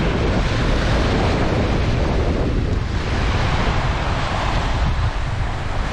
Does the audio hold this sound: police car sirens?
no